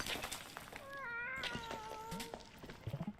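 Cats meowing sadly in the Animal Well video game, several overlapping plaintive, wavering meows held in long tones, close and clear over a soft background bed.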